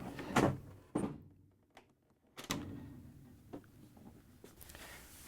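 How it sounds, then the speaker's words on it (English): A Frigidaire/Electrolux refrigerator freezer door is pulled forward and lifted off its hinges, with a series of sharp clunks and knocks, scraping and rattles at close range, then quieter handling noises. "we can now remove the freezer door. Simply pull forward slightly and then lift up carefully."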